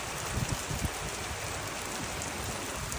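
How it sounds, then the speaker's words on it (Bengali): Rain falls steadily outdoors on the eve of Eid al-Adha, a soft, even hiss of drops on surfaces that carries on without pause and is heard alone, with no one speaking. "অনেক সুন্দর বৃষ্টি পড়তেছে।"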